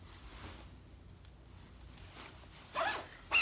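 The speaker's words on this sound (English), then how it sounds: "just to show you if I end up having a little bit of an issue zipping it up" Jacket zipper, a double zipper, drawn up in two short bursts near the end, each a brief close scratchy rasp over a quiet background hum.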